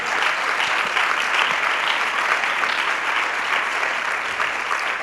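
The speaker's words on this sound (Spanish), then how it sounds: "quiero que te demos un fuerte aplauso de bienvenida" Steady, dense applause from a church congregation welcoming a first-time visitor, a full room of hands clapping continuously at even loudness with no talk over it.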